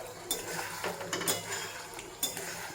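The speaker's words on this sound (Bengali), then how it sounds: "এখন মশলা কষানো হচ্ছে" Spices sautéed with potatoes in a pan for aloo potoler dalna, with intermittent clanks and scrapes of a utensil against the pan over a soft background hiss, close and moderately quiet.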